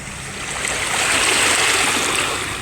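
Sea water rushes and churns in a steady broadband wash, swelling slightly in the middle, with no voices.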